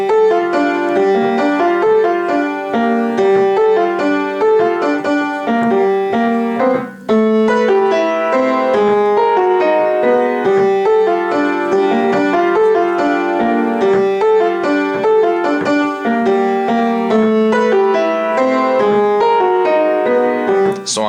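Solo piano playing the instrumental backing part of a song, a steady, full chordal pattern with a repeating bass line, loud and continuous throughout with a brief dip near the start.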